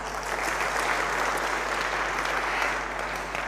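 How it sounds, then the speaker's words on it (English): Dense, even applause from an audience at a young professionals' talk on etiquette and personal branding, a steady sustained patter over a faint background hum. "Let's give him another clap."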